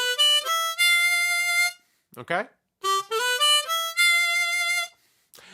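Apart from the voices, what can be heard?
first part of a blues riff on a C harmonica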